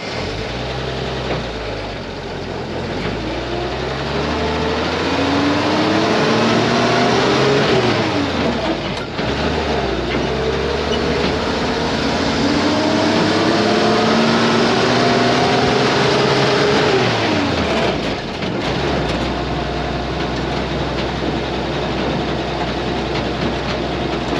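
An old Bedford Blitz truck engine running as it drives, a loud steady drone that rises and falls through several gear changes and revs, alone without talk.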